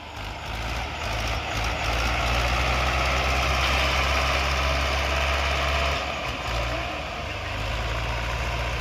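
A heavy diesel tractor engine rumbles and chugs steadily close by, its low throb holding throughout with a brief dip near the end.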